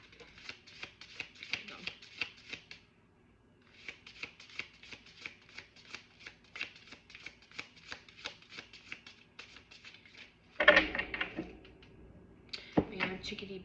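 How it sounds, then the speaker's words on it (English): Cards are shuffled repeatedly in quick riffling bursts, close and crisp, with a short pause midway and a few louder snaps and handling sounds near the end. "I'm gonna shuffle one more time."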